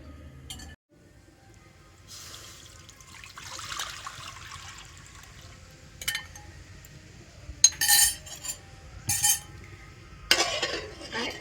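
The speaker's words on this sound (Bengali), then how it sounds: "আর এবারে আমি এই তরমুজের মিশ্রণটা নিয়ে কড়াতে দিয়ে দেব।" A watermelon dessert mixture set with agar agar powder is poured into a wok, heard as a trickle and gentle stirring followed by several sharp clinks of utensils against the pan.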